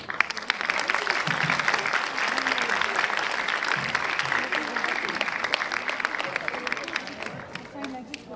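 An audience applauds at a speech event at the Rawalpindi Arts Council, with dense, sustained clapping filling the hall at an even, loud level for several seconds.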